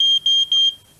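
A smoke alarm sounds when its test button is pressed: three loud, shrill high-pitched beeps in quick succession, each separated by a short gap, then silence.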